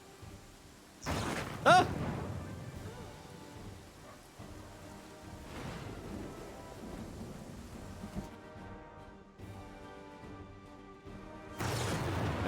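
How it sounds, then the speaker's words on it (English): A thunderstorm with rain in the video game Pathfinder: Kingmaker: sharp thunder cracks open and close the stretch, with rolling rumbles and a continuous rain hiss between; a man briefly exclaims. "Damn, this is a big storm."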